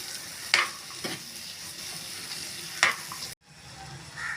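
Broad beans with chili powder stirred into hot oil in a pan for a Tamil avaraikkaai poriyal: a spatula scrapes and clatters a few times over soft frying sizzle, then the sound briefly drops out.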